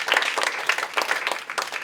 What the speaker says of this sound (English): What a round of applause for the comedy flowers.